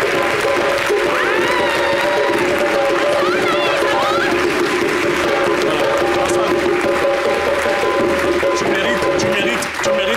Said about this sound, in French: je vais vous demander vraiment d'applaudir bien fort, s'il est possible de vous lever, pour accueillir Hassan Hayek